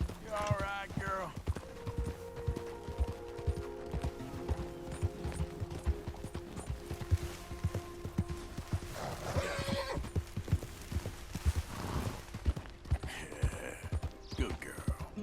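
Horse hooves clip-clopping at a steady gait in the open-world Western game Red Dead Redemption 2, a mare ridden and coaxed, with a whinny near the start and continuous talk over the hoofbeats throughout.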